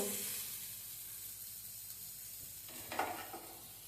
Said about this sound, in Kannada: ರವೆ ಫ್ರೈ ಮಾಡ್ಕೊಳ್ತಾ ಇದ್ದೆ